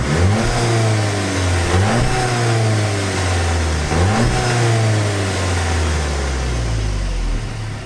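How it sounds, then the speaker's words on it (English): A 2019 Volkswagen Jetta GLI with a dual exhaust revs repeatedly, close and loud, each blip climbing then dropping back to a rumbling idle, about four revs before settling. "It's an actual dual exhaust system, and it sounds pretty damn good."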